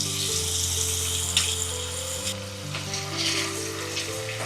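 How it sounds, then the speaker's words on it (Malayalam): Steady, close sizzling of prawns frying in hot coconut oil, continuous and fairly loud, with occasional light crackles and bubbling. "അപ്പം ഇനി നമുക്കിത് വെളിച്ചെണ്ണ വെച്ച് വറുത്ത് കോരാം."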